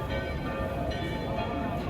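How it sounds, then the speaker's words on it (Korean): Church bell ringing at Piazza del Popolo in Rome at the hour, a steady sustained toll with dense harmonic ringing over busy outdoor crowd ambience, loud and continuous throughout. "여기서 종이 울리는데?"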